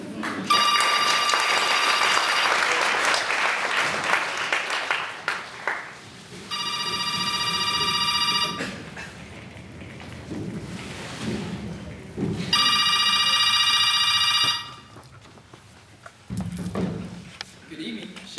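A telephone bell rings in two separate bursts of steady, bright trilling, each lasting about two seconds, with people talking before and between the rings.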